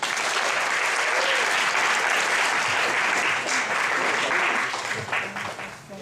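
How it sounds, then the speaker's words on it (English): Sustained applause from an audience at a holiday party after a comedy set, dense and steady throughout, easing off slightly at the very end. "A big round of applause for young Ritu."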